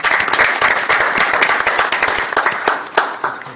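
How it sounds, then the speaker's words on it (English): Applause at a city council meeting: a lively burst of clapping from a modest crowd in the chamber, individual claps distinct within the wash, gradually thinning out toward the end. "We can clap. Let's clap."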